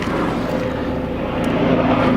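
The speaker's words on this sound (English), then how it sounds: "Sorry for the helicopter." A steady, loud engine drone from a helicopter overhead fills the whole stretch, continuous with no pauses.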